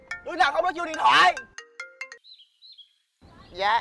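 A mobile phone ringtone plays a short series of bright electronic beeps and melodic tones after a burst of speech, followed by another voice; close and clear.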